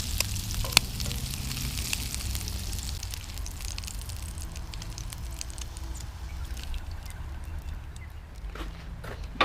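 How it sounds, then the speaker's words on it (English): Fresh-caught squid frying in hot oil in a pan over an open fire, giving a steady close sizzle and crackle that runs the whole time with no talking. "Hot oil over an open fire."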